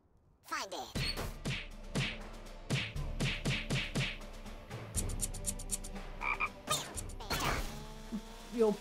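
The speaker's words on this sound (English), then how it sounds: "Frog? Find it." A frog sound in a rhythm video game croaks in quick repeated bursts over a beat, with rhythmic knocks and musical game effects, clear and close, with a voice briefly mixed in.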